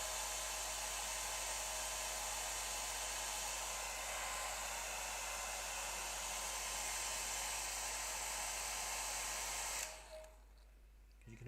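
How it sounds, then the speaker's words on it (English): A hairdryer blowing on a watercolour painting of a frosty Snowdon scene, a steady whooshing whine held for about ten seconds before it clicks off and leaves quiet. "Just get a bit of hairdryer on some of this reflection."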